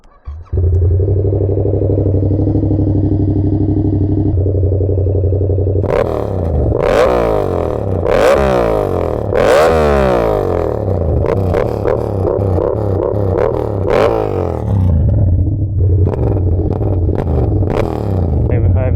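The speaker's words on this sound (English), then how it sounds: "This is a good place for some exhaust sounds because there's nobody around." A 2021 Yamaha MT-07 motorcycle idles with a deep throb, then its exhaust barks through a series of sharp, repeated revs before settling back to a rumble.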